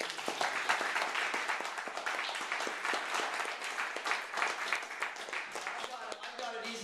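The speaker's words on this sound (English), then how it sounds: "please give Eric and Simon a big round of applause for the workshop" An open-house audience at a public speaking club applauds two workshop presenters, with distinct individual claps standing out within a lively, fairly close round that stays strong throughout.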